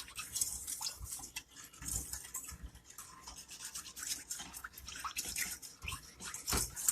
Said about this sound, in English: And I want to whisk it until I don't feel any of that sugar or anything being kind of grainy feeling.